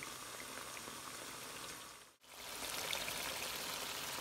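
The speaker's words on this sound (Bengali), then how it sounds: "মাংসটাকে আমি এখন এই স্পাইসের ভেতরে 5 মিনিটস কুক করব" Meat cooks in spices for Afghani Kabuli pulao, a soft continuous bubbling sizzle that runs throughout, briefly cut off once midway and then resuming slightly louder.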